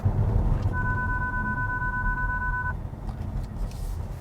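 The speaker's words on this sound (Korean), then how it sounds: "충돌 경고도 잘 작동하고 있고요." A forward collision warning chime in a Kia Seltos 1.6 gasoline turbo sounds as one steady two-tone electronic beep lasting about two seconds over the low rumble of the car cabin while driving.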